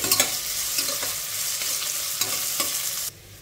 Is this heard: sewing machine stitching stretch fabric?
no